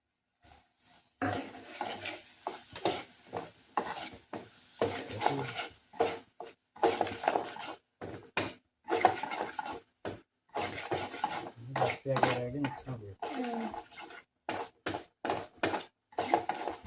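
Spoon scraping and stirring food with ghee in a pan for a festival snack, a continuous run of gritty rubbing strokes, fairly quiet and close, with no voices.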